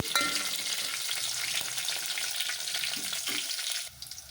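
Coriander seeds fry in hot oil for tomato rasam, a bright, steady sizzle and crackle close by with faint stirring scrapes, easing off slightly near the end; no one speaks.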